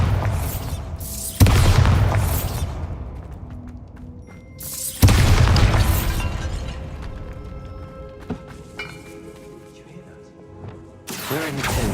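The Bombarda blasting spell goes off in the Hogwarts Legacy game inside a tomb, with several loud booming impacts. Each boom carries a crashing, shattering edge and fades out slowly, and quieter game sounds fill the gaps between them.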